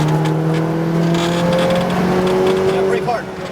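A McLaren GT4 race car accelerates on a track, its engine droning loudly and steadily up close with rising tone and a brief dip near the end, while an instructor talks over it.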